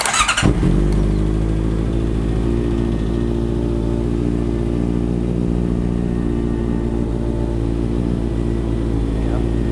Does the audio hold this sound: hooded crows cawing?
no